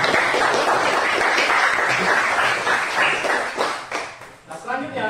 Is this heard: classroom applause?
yes